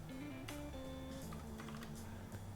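Keys clack on a computer keyboard in irregular taps, with a firmer press standing out among the quick strokes, close and fairly quiet over a faint steady background hum.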